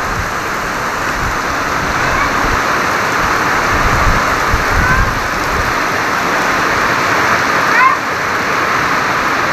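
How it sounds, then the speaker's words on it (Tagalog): Heavy rain pours steadily in a dense, hissing wash throughout, with a faint voice briefly audible beneath the downpour. "Grabe ulan to."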